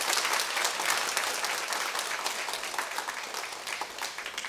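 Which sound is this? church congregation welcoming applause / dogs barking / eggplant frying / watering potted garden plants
church congregation welcoming applause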